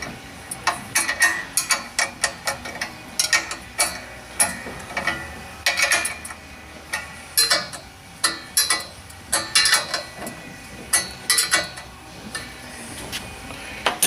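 A ratchet wrench clicks in repeated quick bursts while locking nuts are snugged down on a boom kit, each run of sharp metallic ticks separated by short pauses, close and clear with no speech.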